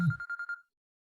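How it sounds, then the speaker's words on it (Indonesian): A telephone rings indoors with an incoming call, a short rapid warbling trill lasting well under a second, fairly quiet and alone before silence. "Langsung dapat telepon."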